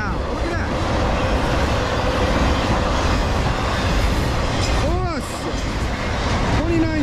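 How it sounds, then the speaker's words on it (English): A train rumbles steadily past nearby on the Lehigh Line in New Jersey with a continuous roar and rattle of wheels, while people talk over it. "Got a lot of trains coming."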